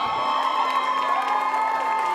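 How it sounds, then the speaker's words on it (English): Crowd cheering and shouting at the 2015 Women's Premier League grand final between Merewether United FC and Valentine FC. A steady, dense roar holds throughout at an even level. "Thank you to the crowd."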